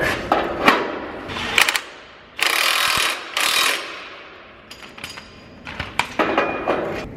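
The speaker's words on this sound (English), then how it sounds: "put the impact on the bolt side and used a ratchet on the nut" An impact wrench hammers loudly in two long bursts on a bolt, with shorter rattling bursts and clinks of a hand ratchet on the nut between them, up close in a workshop with no talk.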